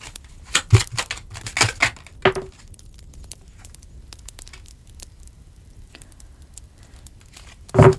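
Tarot cards are shuffled and drawn at a reading table, giving a quick burst of crisp riffling and slaps, then quiet with scattered soft card taps and a final sharp flurry near the end.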